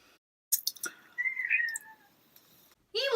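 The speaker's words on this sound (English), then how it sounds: "Can you hear my cat crying in the background because I won't let him in?" A cat cries from behind a closed door, one drawn-out meow rising then falling in a quiet room, with a few faint clicks around it and another short cry starting at the end.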